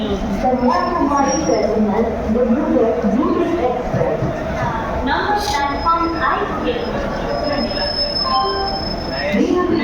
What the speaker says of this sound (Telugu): న్యూ జల్పైగురి రైల్వే స్టేషన్ 4వ నెంబర్ ప్లాట్ఫామ్ మీదకి వచ్చింది బండి